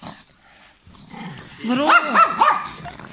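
Small dogs growl and bark in loud, overlapping bursts during a home Easter gathering, with people talking over them.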